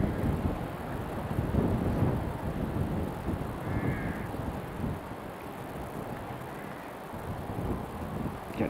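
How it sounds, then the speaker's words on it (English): Wind buffeting a microphone outdoors at an airport as a Pilatus PC-12 of the Irish Air Corps approaches, a continuous loud low rumble with gusty swells throughout. "Getting buffeted around in the wind."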